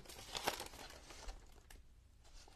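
Scissors cut through a paper junk-mail envelope while a journal is being made, giving a faint close crinkling snip with a crisp rustle near the start and a softer second crunch after, in a quiet room.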